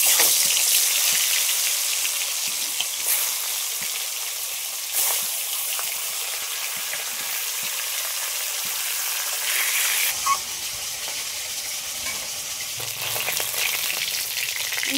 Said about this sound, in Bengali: এবার সব মাছগুলো ভেজে নেব